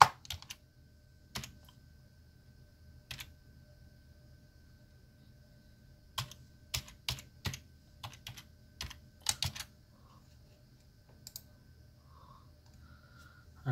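A password is typed on a computer keyboard, with quiet scattered key clicks and short bursts of keystrokes separated by pauses in an otherwise silent room.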